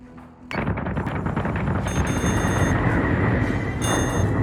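Heavy torpedo impacts and weapons fire from a space fleet battle in Battlestar Galactica Deadlock, a loud sustained barrage of booming blasts and rattling hits that starts abruptly and continues without pause.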